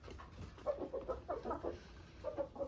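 Backyard hens cluck in soft, irregular bursts as they peck at table scraps on a rainy day, close by and fairly quiet, with short pauses between their calls.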